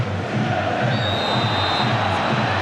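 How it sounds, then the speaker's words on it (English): A football stadium crowd at an Italy vs England international lifts into a loud, continuous roar of cheering and chanting, filling the whole moment with a dense, rumbling wall of voices. "The crowd have just lifted themselves, Brian"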